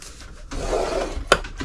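Paper being scored along score lines with a scoring tool while making a lunchbox note treat box, a few soft close rasping strokes with one sharper scrape near the end, no talking.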